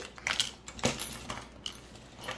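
A craft toolkit is unwrapped at close range, with light jangling, clinking and crinkling taps coming in small irregular bursts.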